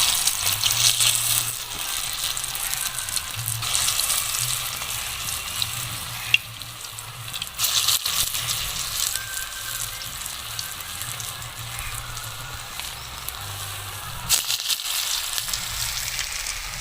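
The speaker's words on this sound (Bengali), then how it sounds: "ওইটা বড়ার মতো করে নিয়ে ভেজে নেব" Round pumpkin fritters (bora) made from mashed pumpkin frying in hot oil, giving a steady, close, continuous sizzle and crackle that lasts throughout with no talking.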